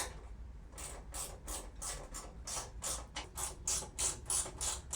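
A hex key tightens bolts on a BMW F30 intake, producing a rapid series of small, crisp ratcheting clicks in quick rhythmic bursts, close and fairly quiet.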